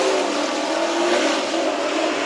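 Race cars roar through a dirt-track heat race at Bakersfield Speedway, a dense, steady engine drone from several cars held loud and continuous with no gaps, tires and revving blended into one wall of sound.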